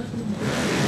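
A Honda CBR 900 motorcycle engine roars while racing on sand at the Enduro du Touquet, loud and close, revving upward over a brief burst.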